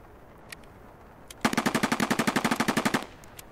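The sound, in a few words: AK rifle gunfire in video game Escape From Tarkov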